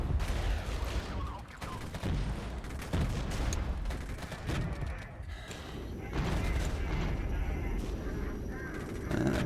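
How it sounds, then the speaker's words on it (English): Airstrike in the war game Regiments, a dense rolling barrage of booms and crackling blasts that continues for the whole stretch, loud and sustained with shifting intensity. "Let's drop an airstrike on that guy."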